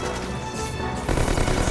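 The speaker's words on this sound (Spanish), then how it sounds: "hay que evitar esos disparos" Gunfire in the video game Resident Evil 5, a short burst of loud rapid shots and impacts that intensifies in the second half of a brief moment.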